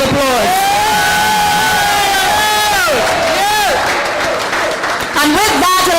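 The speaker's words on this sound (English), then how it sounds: "join me in giving the people of Chaguanas West a rousing round of applause" A crowd at an outdoor political public meeting for the Congress of the People at Gaston Courts, Chaguanas West, applauds loudly, with cheering, whoops and shouted voices rising over the clapping.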